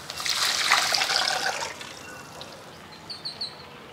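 Tamarind and tomato liquid pours into a clay pot of rasam for about two seconds, a loud splashing trickle that tapers off, followed by faint bird chirps in the background.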